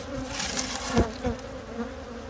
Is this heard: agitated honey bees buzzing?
yes